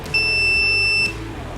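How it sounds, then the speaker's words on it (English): One steady, high-pitched continuity beep from a voltage tester checking freestyle drone wiring sounds for about a second, clear and close, then cuts off. "I'll set it to the beep setting, and it'll let me know if I've got anything crossed"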